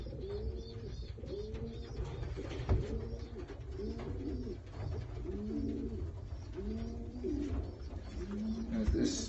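Racing pigeons coo repeatedly in an old-bird loft set up for widowhood, a close chorus of rhythmic, throaty rolling calls that overlap steadily for about nine seconds, with a few sharp knocks or wing flaps.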